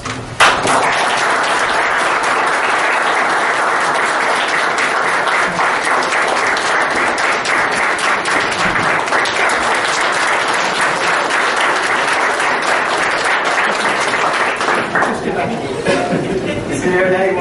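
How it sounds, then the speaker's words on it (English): Sustained applause from an audience at a county board of supervisors meeting, steady dense clapping filling the room for about fifteen seconds before tapering off, with some chatter mixed in. "he deserves, a round of applause"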